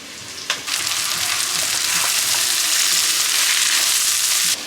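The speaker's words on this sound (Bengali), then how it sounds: "মশলাটা কষিয়ে নিয়ে সজনে ফুল আর বেগুনটাও অ্যাড করে দিচ্ছি।" Drumstick flowers, eggplant and green peas hit hot spiced oil in a pan, a sudden loud, dense sizzle that holds steady for several seconds and then cuts off, close up with no talking.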